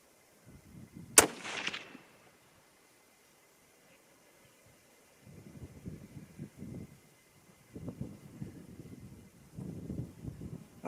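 A Christensen Arms MPR rifle fires a single loud, sharp shot outdoors, followed by a brief rolling echo. Quiet stretches and muffled wind noise make up the rest.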